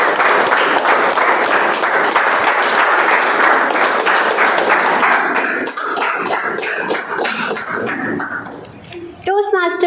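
An audience at a Toastmasters club meeting gives a round of applause for a contest speaker, dense clapping that thins out and fades, followed by a speaking voice at the close.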